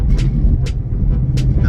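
A car engine running on a BAMA 93 race tune, with low rumbling engine and road noise and a few short, sharp ticks during a rev-match downshift, heard from inside the moving car.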